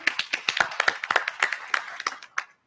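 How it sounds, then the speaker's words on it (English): A small audience claps for a woman guest joining a panel on voice technology: sparse, distinct handclaps from a few people, close and irregular, thinning out after a couple of seconds. "Let's give her a round of applause"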